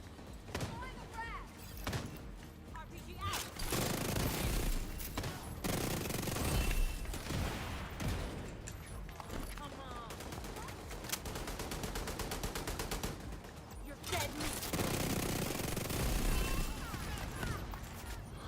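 Rapid SMG automatic fire in The Division 2, dense repeated bursts running almost throughout, loud and close, layered with game effects and occasional talk.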